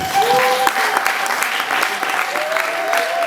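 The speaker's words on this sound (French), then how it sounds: "Est-ce qu'on peut essayer de les applaudir?" Wedding guests applaud in a hall in Rennes, a steady, close wash of many hands clapping throughout, with some voices mixed in.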